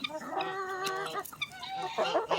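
Backyard chickens cluck and murmur in a close, steady run of short calls, with no talk over them.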